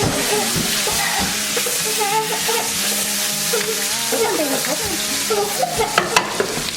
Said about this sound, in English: We're gonna melt butter.